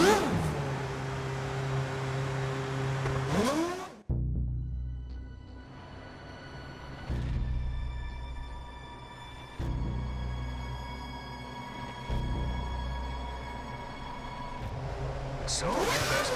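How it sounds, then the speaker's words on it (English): A Formula 1 car in the F1 2010 video game, ready for the Bahrain Grand Prix, whines with a sharp rising engine sweep, then cuts to a lower idle broken by several revving surges. "Starter up, car to track."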